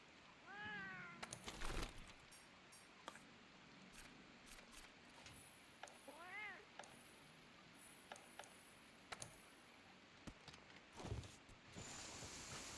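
Companion cat in the Monster Hunter World video game meowing a few times, with short harmonic meows early and midway over quiet game ambience and soft clicks.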